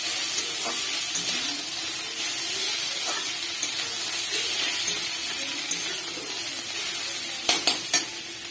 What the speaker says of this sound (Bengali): এখন আমি পেঁয়াজের মধ্যে এভাবে কুচি করে রাখা লঙ্কাগুলো দিয়ে দিলাম। চিড়ে রেখেছিলাম আগে লঙ্কাগুলো, এখন আমি এগুলো দিয়ে দিলাম। এগুলোও ভাজা হবে